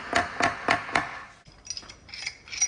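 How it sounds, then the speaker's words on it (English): Four light metallic taps in even rhythm on a 4L60E transmission servo cap, close and crisp, followed by softer scattered tapping and scraping around the cap. "So I just gotta kind of give it a little tappy taps all the way around here like this"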